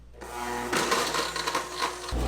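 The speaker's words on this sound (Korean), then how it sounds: "자, 이렇게 블렌더에 갈면은 이런 상태가 됩니다." Blender grinding frozen strawberries with a splash of hot water, a loud steady whirring motor churning for about two seconds before abruptly cutting off.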